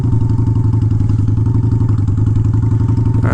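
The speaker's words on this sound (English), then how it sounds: "I'm just getting a fluctuating idle at this point" A Honda Shadow motorcycle engine idles loud and close with a throbbing, uneven beat, its rhythm wavering in a fluctuating idle and heard alone throughout.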